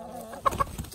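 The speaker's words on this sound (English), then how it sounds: "Got a bunch of chickens." A bunch of backyard chickens cluck in short, close bursts, a few quick calls over a quiet background.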